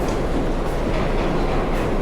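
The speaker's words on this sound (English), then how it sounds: "passing the 6 train. There it goes, check it out. Zooming on by." A New York City 6 subway train rolls past inside Grand Central, a loud, close, continuous rumble with rattling wheels and faint brake squeals throughout, with no talking.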